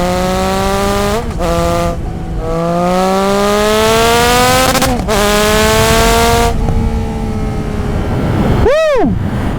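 Triumph Trident 660 three-cylinder motorcycle with a full Zard exhaust system, revving hard through several rising gear pulls with brief shift breaks, loud and close, ending on a sharp throttle blip.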